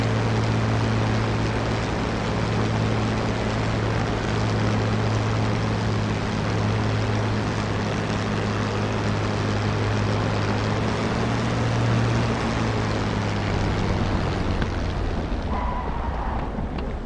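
Airplane engine in a flight simulator game, a steady loud low drone with a strong hum that eases slightly as the throttle is pulled back near the end.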